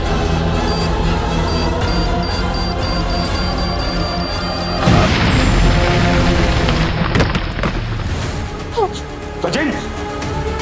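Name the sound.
explosion in TV crime drama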